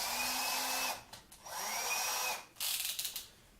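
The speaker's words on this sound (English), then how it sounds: "you're going to need a cordless drill or something similar" Cordless drill with a 6mm bit whirring in bursts: a steady whine, a brief pause, another long run, then a few short pulsed triggers, close and clear.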